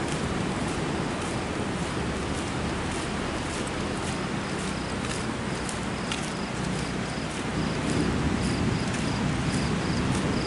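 Crickets chirp in rapid, steady pulses over a dense, hissing outdoor ambience in Bali, with no one speaking.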